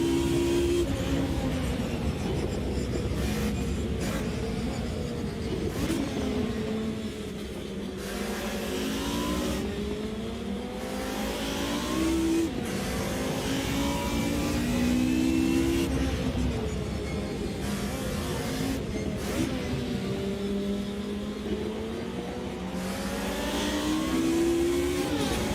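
Race car engines in the Automobilista 2 racing game rise and fall through gear changes during an overtake, a continuous loud whine sweeping up and down with repeated shifts and no talk over it.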